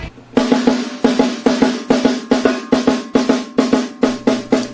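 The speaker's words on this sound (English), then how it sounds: "The drum should now probably sound like this, and the snare wire should be pretty loose." A snare drum with loose snare wires and a clear Remo Ambassador resonant head is struck in a steady run of sharp, close hits, each with a buzzy rattle of wires.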